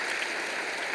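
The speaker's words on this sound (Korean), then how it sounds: "여러분 그의 박수로 환영하시지요" Church congregation applauding to welcome a person during a Sunday service, a short burst of steady, dense clapping filling the room with no voices on top.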